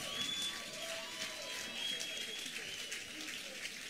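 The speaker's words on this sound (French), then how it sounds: "Des applaudissements pour Miss Guadeloupe" Applause from the audience at the Miss Guadeloupe 2022 crowning, a faint, distant wash of clapping heard steadily throughout with a few soft tonal sounds mixed in.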